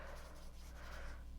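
Pen handwriting on colored card stock, a soft, faint scratching of strokes that is close and quiet, ending in a brief tap.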